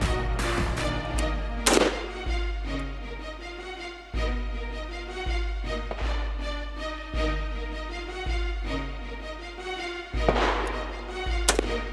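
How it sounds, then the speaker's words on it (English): A rifle fitted with a Vortex Spitfire optic fires single rounds at a yellow target box, about a dozen loud sharp shots at an uneven quick pace, each with a booming low tail, outdoors and without talk. "bring the weapon up, and try to put rounds into that, ideally into that that yellow box on there"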